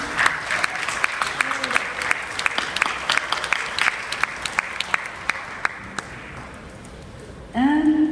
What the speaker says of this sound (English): I think a round of applause for all of you